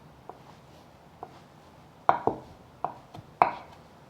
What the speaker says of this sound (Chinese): 把香菇切丝， 排整齐，切小丁